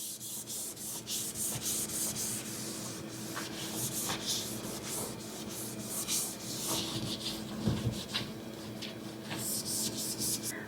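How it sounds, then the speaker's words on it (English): Quiet, steady rubbing and scrubbing strokes as a cloth wipes a dirty kitchen surface near the stove, close by, with a few sharper scuffs scattered through. "It gets real dirty, so just come on through and wipe it clean."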